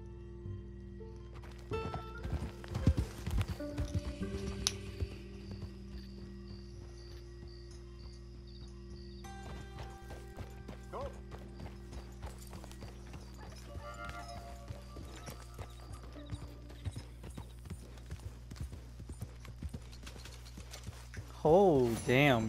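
Horse hooves clop in an irregular rhythm during riding in Red Dead Redemption 2, mixed with mechanical clatter and other game sounds, moderately loud with brief voice-like sounds near the end.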